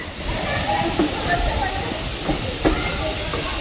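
The 06281 Mysore–Ajmer Special Express halts at Hassan Junction, filling the space with a loud, steady rumbling hiss and a few faint clanks, heard from on board.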